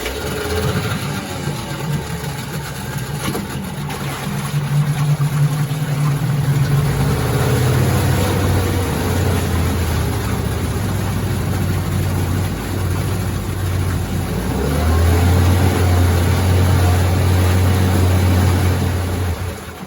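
An outboard boat motor coughs into life and settles into a loud, steady running hum with a low droning tone that shifts pitch partway through, close by, with no talking.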